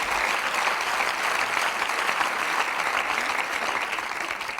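An audience at a stand-up comedy show in the Palais des Glaces applauds with dense, steady clapping that holds at an even, fairly loud level throughout, with no talk.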